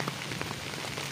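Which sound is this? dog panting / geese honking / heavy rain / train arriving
heavy rain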